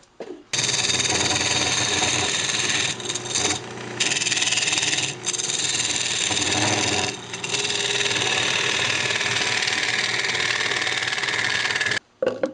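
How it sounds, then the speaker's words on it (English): A large lathe scraper hollows out the inside of a turned wooden coffee cup, giving a loud, steady rasping scrape over the motor's hum that drops out only in a few brief pauses. "using a giant scraper to get way down in there"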